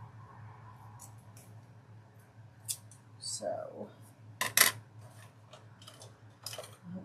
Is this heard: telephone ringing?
no